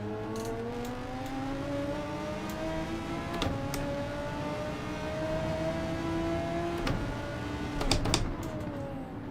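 A Group 3 race car engine at Daytona in Gran Turismo 7 drones steadily while its pitch climbs slowly through the gears, with brief clicks and sharper bursts near the end and no talk.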